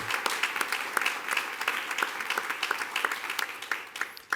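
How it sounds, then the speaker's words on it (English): School board meeting audience applauding the girls track team for their state championship efforts, dense sustained clapping with crisp individual claps, steady and fairly loud from start to finish. "And so we ought to just give them a round of applause for their efforts."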